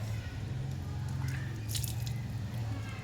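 Water splashing and dripping as hands are washed for ablution (wudu), a steady wet patter over a low hum, close and continuous with no talking.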